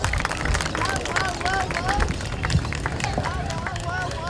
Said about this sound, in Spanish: pido un fuerte aplauso para el